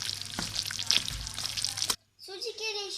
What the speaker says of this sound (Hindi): चीनी हमारी पक रही है।